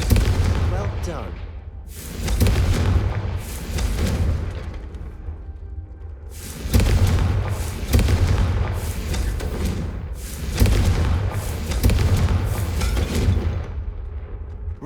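Confringo fire spell blasts in the Hogwarts Legacy video game, a string of loud booming bursts that come in clusters with short gaps, with talk running under them.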